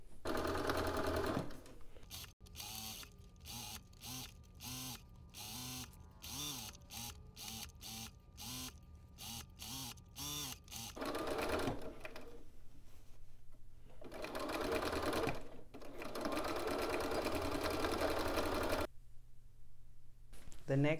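A sewing machine stitches fabric while finishing the inside of a zipper seam, running in rapid, rhythmic bursts of loud mechanical clatter with short pauses and a steady motor whir between runs.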